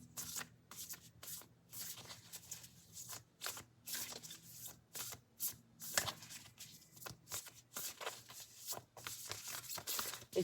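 Shaman's Oracle cards being shuffled by hand, a run of quick papery riffles and soft slaps in irregular bursts, close and fairly quiet against a faint background hum, with no talking.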